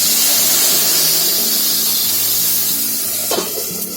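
Hot tempering poured into a simmering spinach and chana dal dish on a low gas flame, giving a loud continuous sizzle and hiss that gradually eases, with a brief sharp flare near the end.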